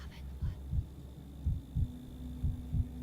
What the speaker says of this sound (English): The heartbeat is normal.